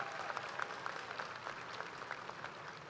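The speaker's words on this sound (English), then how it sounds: "Let's give our board a round of applause for the support of our schools and school district." A graduation crowd at Dekaney High School applauds the school board, producing continuous clapping with a few distinct individual claps standing out. The sound is fairly distant and quiet.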